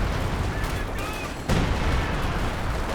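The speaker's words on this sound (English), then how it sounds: "Major artillery out the back here" Artillery fire in the real-time strategy game Company of Heroes 2 during a 2v2 match, heard as dense rumbling battle noise with a sharp booming impact midway, set among continuous gunfire and explosions.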